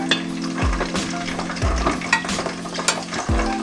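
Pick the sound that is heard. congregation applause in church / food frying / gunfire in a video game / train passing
food frying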